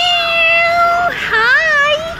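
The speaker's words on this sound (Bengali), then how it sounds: "এই তো আমাদের ম্যাও সোনা।" A cat at Alipore Zoo in Kolkata gives a loud, close, drawn-out meow, then a second wavering call after a short pause.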